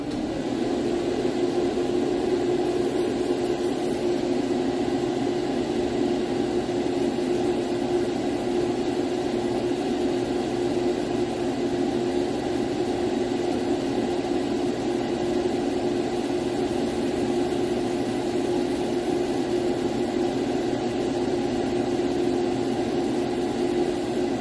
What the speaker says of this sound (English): Let's turn on the exhaust fan here so we're not breathing in all that